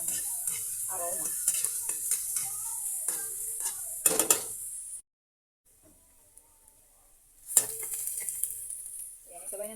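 Ingredients sautéed until lightly browned in a pan, a bright steady sizzle with stirring clinks and scrapes, then a sudden silence of a few seconds before the sizzling and stirring return.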